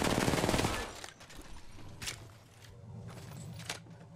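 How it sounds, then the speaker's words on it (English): A loud, close Peacekeeper shotgun blast from Apex Legends opens the clip and dies away. Fainter shots, clicks and footsteps follow in the game soundscape, and no one talks. "Oh, what a massive shot."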